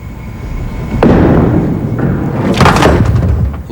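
A 5-pin bowling ball rolls down a lane and strikes the pins, giving a heavy thud followed by a clattering, scattering crash a moment later, all close and loud against the noise of the alley.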